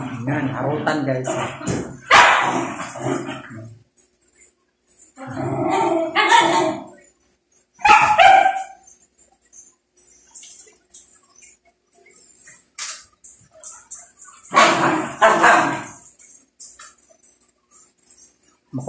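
Indoors at home, dogs bark and yip in several short bursts while playing roughly, with quiet gaps between them and a person speaking at times.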